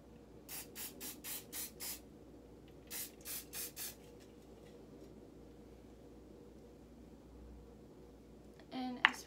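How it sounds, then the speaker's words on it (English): Hairspray hisses from an aerosol can onto hair during curling, heard as two close bursts of five and four short, evenly spaced sprays, followed by a quiet stretch and a brief clatter near the end. "I am just putting in some hairspray"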